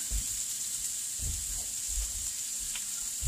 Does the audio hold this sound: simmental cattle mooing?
no